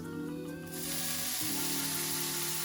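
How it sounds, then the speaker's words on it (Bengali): Soy sauce poured into a hot pan of Thai-style bok choy sets off a loud, steady sizzle with a brief splashing flare, continuing as a dense frying hiss throughout. "সো দিয়ে দিচ্ছি সয়া সস"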